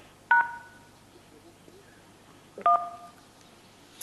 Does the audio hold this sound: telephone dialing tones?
yes